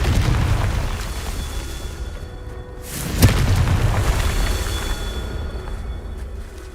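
A Confringo fire spell goes off in the Hogwarts Legacy video game as a single sharp blast about halfway through, with a whooshing build-up and a rumbling tail over a loud, dense game background.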